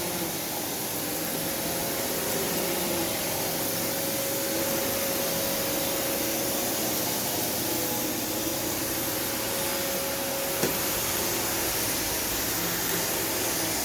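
A Kenmore Progressive vacuum cleaner runs across a living room floor, a steady loud broadband roar with a faint tonal hum, holding constant throughout with one small click.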